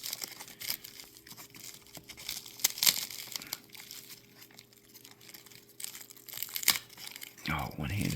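Strong tape pulled and torn off Pokemon card packs such as Silver Tempest, making bursts of crinkly ripping and crumpling close by, spread irregularly, with a voice speaking at times.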